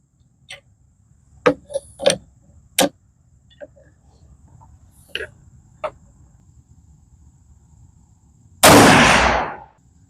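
.400 Legend rifle fires Nosler Whitetail Country 215-grain ammunition: after a few sparse clicks and light handling noises, a single sharp, loud, close shot cracks and then decays quickly.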